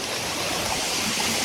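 Steady, loud rushing roar of a roadside waterfall, Cachoeira do Louro in Praia Grande, Santa Catarina, a continuous broadband wash of falling water with no voices.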